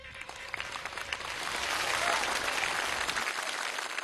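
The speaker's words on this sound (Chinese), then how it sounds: "掌声送给韩兆" A studio audience claps for a contestant at a televised military talent show final, applause swelling from scattered claps into a full steady wave before tapering off, with a host's voice briefly over it.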